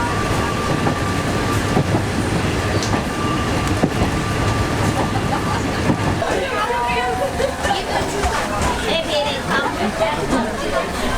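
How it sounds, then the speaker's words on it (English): A tourist train rumbles along the Death Railway at Kanchanaburi, Thailand, a steady loud rolling roar with rattling carriage noise and faint clatter, while passengers chatter in the background. "In the front of the train."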